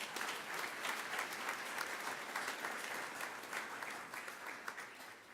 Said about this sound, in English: we please give them a round of applause,